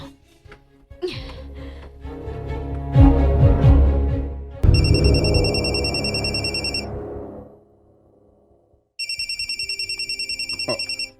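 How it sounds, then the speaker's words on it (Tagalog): A phone ringtone chirps in two bursts of rapid trilling electronic rings, separated by clattering movement and background noise. "Si Mara nga nawag."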